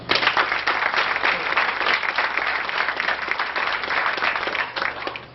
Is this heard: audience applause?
yes